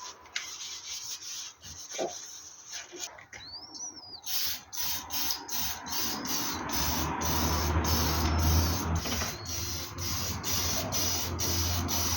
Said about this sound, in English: I've had a bit of trouble with the nozzle of the primer can